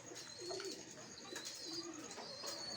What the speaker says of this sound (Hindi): अब भी काफ़ी बच्चे निकले हुए हैं उनके अंदर चू चू की आवाज़ें आ रही हैं